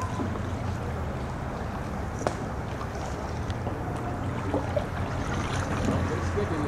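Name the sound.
paddling a boat through wetlands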